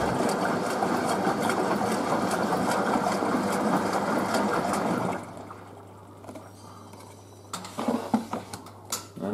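A Hoover A3060 Electronic 1100 washing machine runs a second rinse, a steady churning motor and water swish that stops abruptly midway, leaving a low hum and a few clunks.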